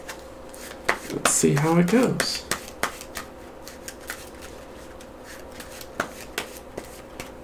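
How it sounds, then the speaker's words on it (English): A deck of cards for Dark Souls: The Card Game is shuffled by hand in a few short, papery riffling bursts, with a spoken voice briefly in the middle and faint scattered taps of cards being handled afterward. "Shuffle this over a little bit more."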